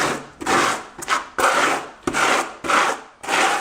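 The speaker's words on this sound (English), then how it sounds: "I'm just going to spread some thin set here." A V-notch trowel spreads thinset mortar for setting a small tile, making rhythmic scraping strokes, about six of them and roughly half a second apart, close and loud with no talking.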